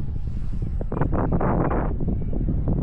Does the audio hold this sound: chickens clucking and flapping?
no